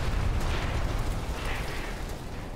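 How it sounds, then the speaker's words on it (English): Explosion in the video game Dead Island 2, a loud, dense rumbling blast with broad noisy roar that holds steady for a few seconds before easing slightly. "That's gonna be an explosion."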